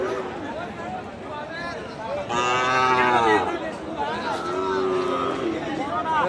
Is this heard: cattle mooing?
yes